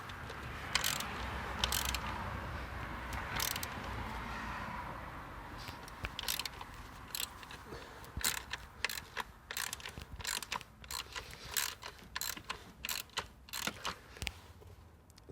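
A socket ratchet works bolts loose on a Ford Fiesta ST180 engine, with rapid clicking pawl bursts and metallic clatter in irregular spells, close and fairly quiet.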